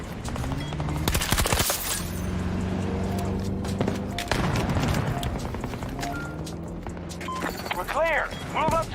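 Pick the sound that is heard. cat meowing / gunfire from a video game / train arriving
gunfire from a video game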